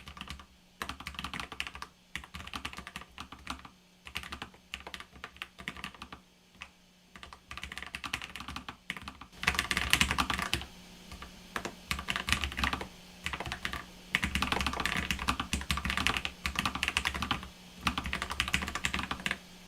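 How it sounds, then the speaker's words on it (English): Steady, rapid keyboard typing with clicky keystrokes, close up, growing denser and louder partway through; no voices. "So let's do a little bit of a typing test here."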